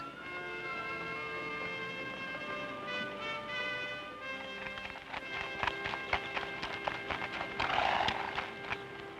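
Horses clip-clop and snort as they move off, hoofbeats growing busier and louder over a steady music-like drone.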